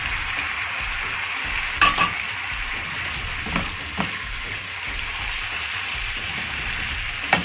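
Seven spices and black pepper sizzle in hot ghee, a steady close frying hiss with a few sharp pops and stirring clicks scattered throughout, no speech.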